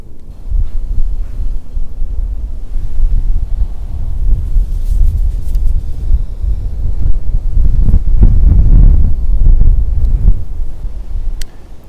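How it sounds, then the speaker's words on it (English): Strong gusting wind buffets the microphone at a riverbank while fishing for white bass from shore, a loud continuous low roar that swells and surges in heavier gusts, with no talking. "Yeah, it is windy."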